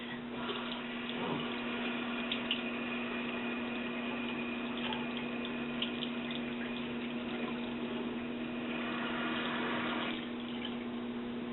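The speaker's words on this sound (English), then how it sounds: "Normally I don't bother cleaning the inside of the head cap, but we'll give it a gentle rinse" Water runs steadily from a tap as a doll's head cap gets a gentle rinse, a continuous close splashing flow that holds for several seconds and then eases off.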